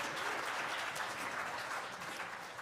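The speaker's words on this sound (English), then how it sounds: "If we give them a big round of applause, that would be wonderful." An audience at the 50th annual CDC talent show gives a round of applause, a soft, even patter of many hands heard from a distance and fairly quiet throughout.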